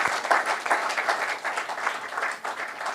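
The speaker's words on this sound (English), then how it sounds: "Ladies and gentlemen, clap for me. Yes, clap for me." An audience at an investment forum plenary session in Dubai claps together in a steady, moderately loud round of applause that carries on without pause.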